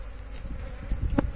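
Agitated honeybees buzz in a continuous, faint, close hum around a hive on a cool day, with no voices.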